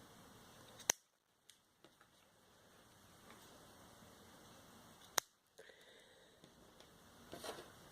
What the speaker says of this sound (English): you can trim off any excess